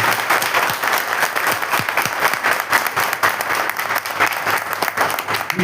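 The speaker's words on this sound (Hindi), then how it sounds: "तो इस मंच पे एक जोरदार तालियों से नीतीश द्विवेदी का स्वागत है।" An audience applauds to welcome a guest onto the stage at a political conclave, with a steady, dense wash of clapping throughout and no speech.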